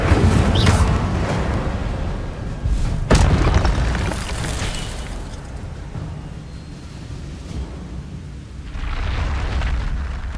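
A fire spell cast in the video game Hogwarts Legacy bursts with a loud booming whoosh, followed by a sharp crack and a rumbling roar that fades and swells again, with no talking.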